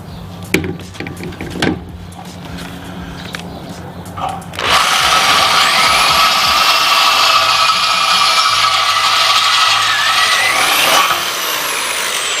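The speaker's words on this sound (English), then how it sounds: "Now it's time to drill these holes." A handheld power drill bores holes while a sewer hose storage is fitted on a Casita RV: a few clicks and handling knocks, then a sustained loud whining drill run of several seconds that drops slightly near the end.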